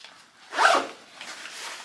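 A zipper slides along a front pocket of a Cordura everyday-carry bag in one quick, close pull lasting under a second, followed by a fainter brief rustle.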